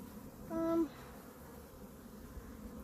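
A single honeybee buzzes past briefly near a beehive, a short close drone over quiet outdoor background.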